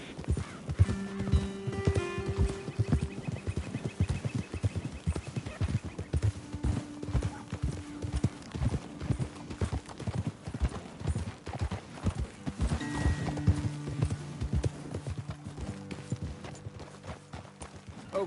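Horses walking up a hillside trail, hooves clip-clopping in a steady uneven rhythm close by for the whole stretch, with occasional snorts or whinnies and a faint voice now and then.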